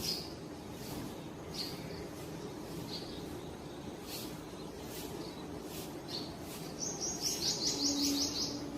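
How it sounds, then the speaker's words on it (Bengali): A male Asian koel calls from a drumstick tree near a house, sounding as repeated bright chirps over a constant hiss of outdoor background noise, ending in a faster run of calls. "এই যে একটা কোকিল এসে বসেছে ওর সঙ্গে আর একজন ছিল জুটি এটা হচ্ছে ছেলে কোকিল"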